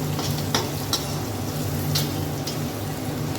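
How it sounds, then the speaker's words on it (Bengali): Grated ginger frying in a pan of oil with puishaak, stirred with a few scrapes of the spoon over a steady close sizzle, no voices. "আদাটা দিয়ে দিলাম, আবার একটু নাড়াচাড়া করে নেব।"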